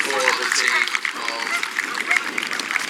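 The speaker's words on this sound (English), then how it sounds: "ladies and gentlemen, a round of applause for the team of" Audience applause for a horseboarding team at the Burghley Game Fair, sustained clapping from an outdoor crowd heard under a loud announcer's voice throughout.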